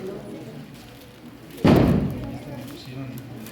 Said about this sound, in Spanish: Si supieran cómo retumban aquí los cohetes